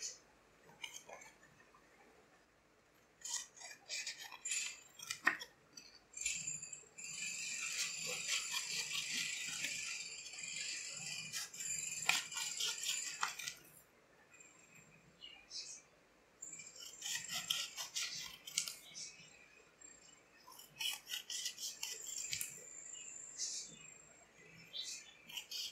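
Scissors cut a paper cone into small equal pieces, giving repeated crisp snipping and rustling in bursts with short pauses between, close up and fairly quiet.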